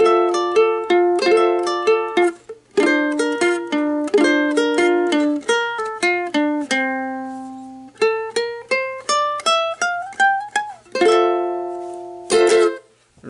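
Plucked ukulele notes ring out a song's melody, a steady run of bright picked phrases with short pauses between them, played solo and close with no talking.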